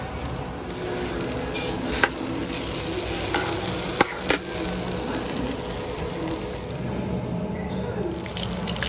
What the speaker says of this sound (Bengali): এখানে মাছটা লাল লাল করে ভাজা হচ্ছে